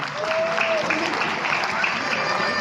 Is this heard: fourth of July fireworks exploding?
no